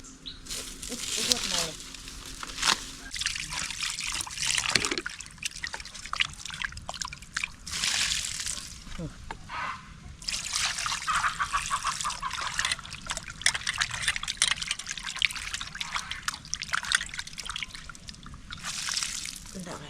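Water trickles and splashes steadily while bangda (mackerel) fish are washed at an outdoor family cooking session, with people talking over the running water throughout.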